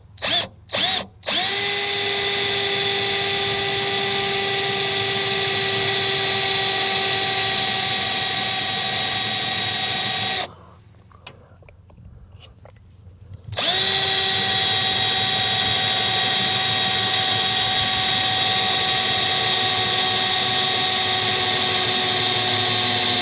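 Power drill boring pilot holes into a steel belly box with cutting oil, a steady high whine running loud and alone after a short start-stop burst, pausing for about three seconds midway before resuming.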